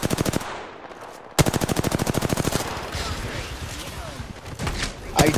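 Rapid automatic gunfire in Apex Legends, loud, close bursts that stop around the one-second mark, resume in a long rattling burst, then give way to scattered shots and thuds, with a voice talking over part of it.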